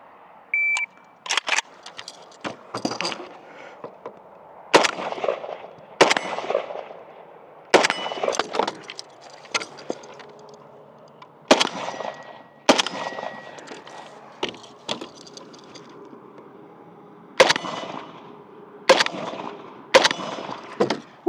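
Zastava M90 AK-pattern 5.56 rifle shots on steel targets fired from ports in a V-TAC barricade: sharp cracks in quick pairs, each followed by a ringing metallic ping, repeating through a timed run with short pauses between groups.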